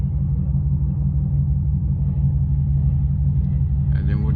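A Shelby GT500 engine idles with a deep, steady low rumble, close and constant, while a voice briefly talks over it near the end.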